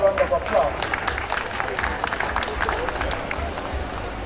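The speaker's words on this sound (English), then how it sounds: "I think the Vice Chancellor deserves another round of applause." Applause from an audience at a university convocation ceremony in Ondo, honouring the Vice Chancellor, with scattered claps over a crowd murmur; the sound is steady and moderate and fades slightly toward the end.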